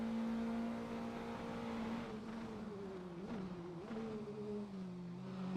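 A Praga race car in a racing video game at Hockenheim roars at full throttle, a steady high engine drone holding pitch and wavering slightly as the car strains for stability, loud and continuous with no talk.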